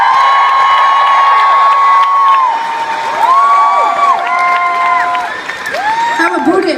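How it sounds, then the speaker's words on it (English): Concert crowd at a show in Oakland applauding and whooping for the keyboard player, a steady roar of clapping and cheers with shouts rising over it throughout. "Would you please give a massive round of applause to our keyboard player,"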